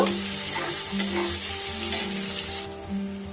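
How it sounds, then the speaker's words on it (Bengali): Chopped onions fry in a pan with a bright, steady sizzle, punctuated by stirring scrapes and a faint background hum, until the sizzle cuts off near the end. "পেঁয়াজটা খুব ভালো করে ভেজে নেব"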